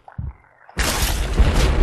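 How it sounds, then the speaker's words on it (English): A quiet thump and murmur give way to a sudden, loud barrage of video game explosions, booming blasts and crackling debris that keeps rumbling on without a break, in Happy Wheels. "Oh, there's explosions everywhere."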